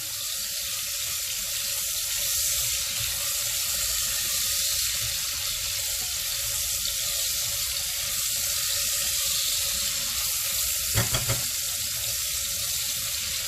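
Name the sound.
onions frying in oil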